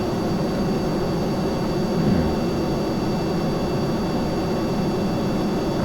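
Steady, loud roar of a plane's engines building for takeoff in Kerbal Space Program, a broadband drone with low rumble that swells slightly about two seconds in and holds without letup.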